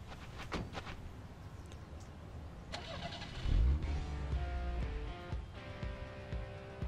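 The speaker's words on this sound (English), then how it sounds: "Time to get back in the car and pop the next card." A car engine starts in a video game after a few clicks and knocks, turning over with a deep low rumble and then settling into a steady idle hum.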